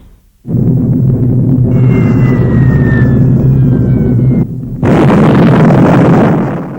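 A wartime explosive charge blows up railway track at a rail joint where a fish plate bolts two rails together: a loud, sustained blast roar, a brief dip, then a second broad burst that slowly fades.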